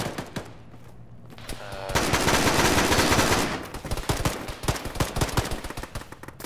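Sustained gunfire in a ShackTac Arma military session: a dense roar of shots swells in the middle, then rapid automatic bursts crackle close and loud, with no voices over it.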